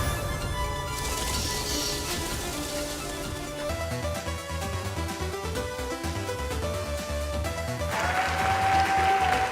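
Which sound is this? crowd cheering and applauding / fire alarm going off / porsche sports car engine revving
crowd cheering and applauding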